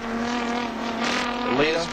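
A touring race car circling Sandown in the 1985 Australian Touring Car Championship gives a steady engine drone that swells briefly as it passes, under a commentator's voice.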